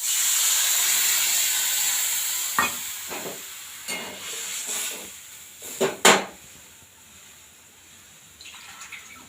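Water poured into a hot pan of ripe tamarind sizzles and hisses steadily, with a few sharper stirring knocks and splashes rising above the continuous steam.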